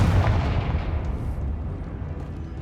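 A Confringo spell blast goes off in Hogwarts Legacy as a heavy, rumbling boom with a deep low-end roll that fades over a couple of seconds.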